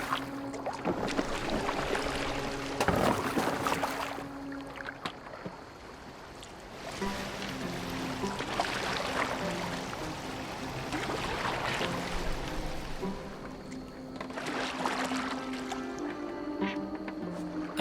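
A boat moves on water in Assassin's Creed Valhalla, with swelling surges of splashing and rushing water over a continuous wash of waves and wind and a faint tonal game background.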